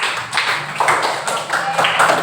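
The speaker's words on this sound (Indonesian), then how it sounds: "Tepuk tangan untuk Barkis." A small classroom group claps for a student named Barkis, several short bursts of hand claps in uneven rhythm, fairly close and moderately loud, with murmured voices under them.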